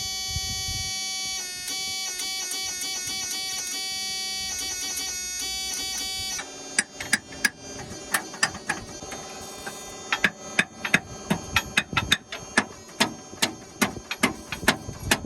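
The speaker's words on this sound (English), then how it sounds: "fuel pump is running, isn't it?" A car's electric fuel pump runs with a steady high buzzing whine, joined partway through by a rapid irregular ticking and clicking that continues to the end, close and alone with no talk.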